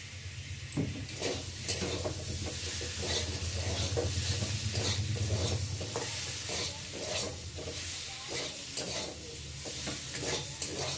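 Ginger-garlic spice paste being sautéed in a pan gives a steady, dense sizzle with rhythmic spatula scrapes and stirs repeating throughout, close and fairly even in level, no voices.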